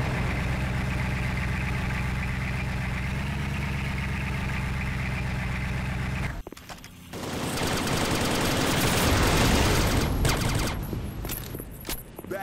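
Heavy gunfire rings out at an airport in a Mobile Forces multiplayer match: a steady engine idle runs for several seconds, then dense, loud bursts of rapid shooting follow.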